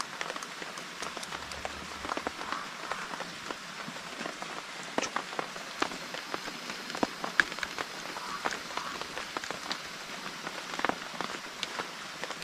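Steady rain falling in a mountain valley during a forest hike, a dense patter of drops hitting surfaces nearby with no talk.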